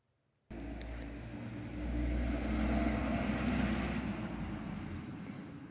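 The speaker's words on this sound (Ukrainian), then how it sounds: "Проїхав молоковоз." A milk tanker truck drives past on a foggy frosty morning, its engine rumble starting abruptly and swelling to a steady loud drone before easing slightly.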